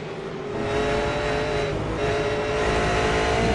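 V8 Supercar race cars roar through turn 1, a steady loud engine drone that swells slightly as the cars pass, with a faint tyre squeal and no voices.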